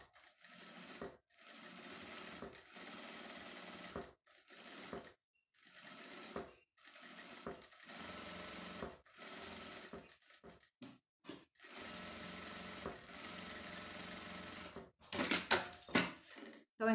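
A sewing machine runs a stitch around the edge of fabric pieces for a manicure kit, going in about eight bursts of steady whirring separated by short pauses, close and alone with no talking.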